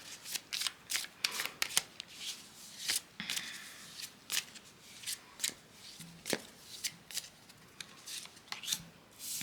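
A deck of tarot cards is shuffled by hand over and over, crisp riffling bursts arriving in a quick irregular rhythm, close and fairly quiet, with no talking.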